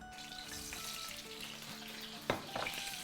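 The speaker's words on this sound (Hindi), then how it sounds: "चलो इसको अब हम अपने तेल में डालेंगे।" Beaten eggs, ten of them whisked with a fork, hit hot oil for egg biryani and fry with a steady hiss, a sharp sizzling burst near the end as they spread in the pan; no talking.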